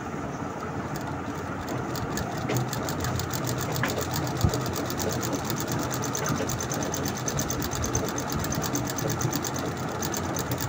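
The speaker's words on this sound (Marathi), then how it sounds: "डबल टिप मारून घ्यायची." A sewing machine runs steadily, stitching a double seam with a rapid continuous mechanical whir and needle chatter at constant loudness throughout.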